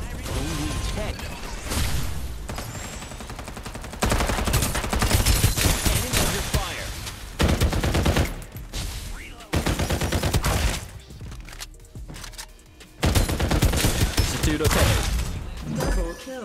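Bursts of gunfire in the battle-royale shooter Farlight 84, loud and dense, arriving in several heavy volleys separated by brief quieter gaps.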